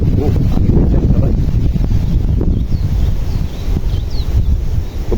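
Wind and rain sweep across an Arabica coffee plantation, a loud, continuous rumbling gust with heavy wind buffeting on the microphone and faint patter underneath, no talking.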